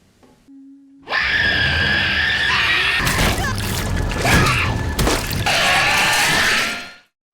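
A woman screams loudly and continuously for several seconds, shrill and intense, with crashing, splashing noise underneath.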